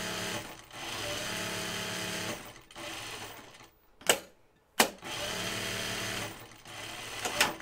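A sewing machine stitches two layers of napkin fabric in loud, close, steady runs, pausing briefly twice and then starting up again.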